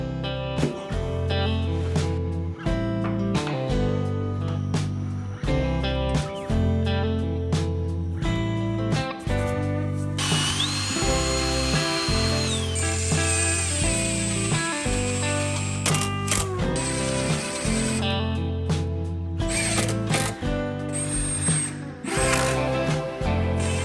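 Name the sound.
drill screwing cabinets together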